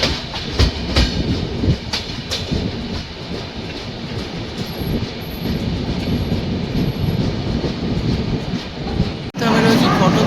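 The Humsafar Express (train 22888, Visakhapatnam to Howrah) runs at speed, heard from inside with a constant loud rumble and rhythmic clickety-clack of wheels over rail joints, ending with a sudden cut.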